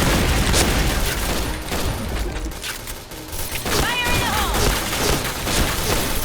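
Dense, continuous gunfire in a Point Blank deathmatch on a map with unbreakable glass, loud rapid shots layered with booming impacts throughout, with a voice briefly talking over it.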